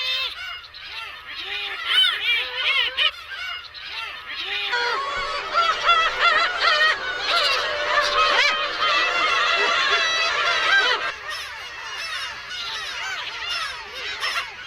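Many black-tailed gulls in a crowded nesting colony call at once, loud, nasal, honking cries overlapping in a dense, agitated chorus close at hand.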